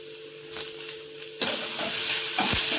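Chopped tomatoes hit hot oil with curry leaves in a pan for chicken curry, followed by a loud steady sizzle and stirring scrapes. A few soft clinks come first over a low hum.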